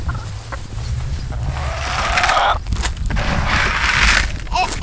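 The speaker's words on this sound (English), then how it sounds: "All right, so chickies, you want some food?" Chicks on a Kansas farm cluck and peep in short bursts amid rustling and thumps, with a person talking nearby.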